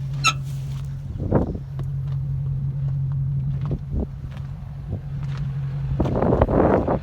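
A 1961 Farmall 560 tractor on the road pulling a baler, its engine a steady low droning hum with wind buffeting the microphone and occasional rattles and knocks, loudest toward the end.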